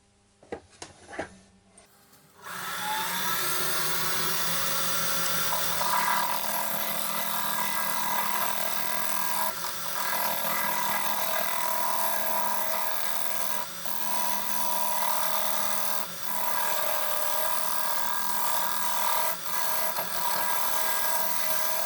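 After a few quiet knocks, a yew blank on a wood lathe starts spinning and a tool cuts into it, giving a continuous, fairly even scraping whir that runs steadily to the end with slight dips.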